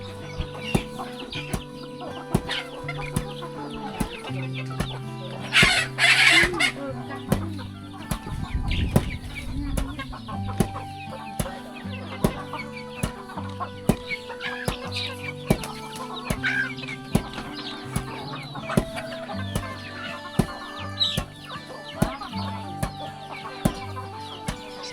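Chickens cluck repeatedly in a rural village set in a mountain valley in Laos, with scattered near and mid-distance clucks recurring over a busy, layered background.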